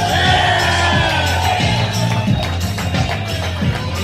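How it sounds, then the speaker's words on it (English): A live comedy audience claps and cheers for actor John Fury, a loud, dense crowd roar with whoops over a strong low hum, steady throughout. "Two hands together makes the sound of clapping for the legendary John Fury"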